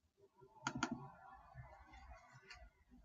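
A computer mouse double-clicks once, two quick sharp clicks close together near the start, followed by faint background room noise and a softer click later.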